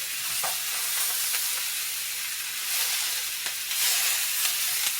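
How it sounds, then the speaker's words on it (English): Vegan sausage, onion, potato and pepper frying in oil in a skillet, a steady broad hiss of sizzling with a few faint stirring clicks, close and even, with no talk. "we're just going to stir it up some"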